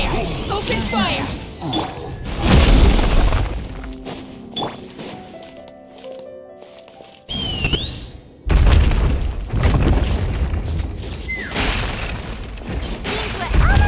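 Cannon fire and explosions in Genshin Impact, heavy booms and crashes in bursts with a quieter stretch of music in the middle, loud and close.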